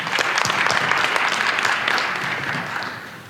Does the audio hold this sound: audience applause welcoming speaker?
yes